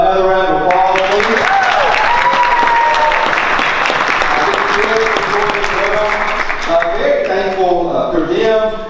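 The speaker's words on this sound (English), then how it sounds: "Give them another round of applause, please." A crowd claps loudly for a children's choir at a Christmas concert, a dense sustained ovation with cheering and voices calling out over it.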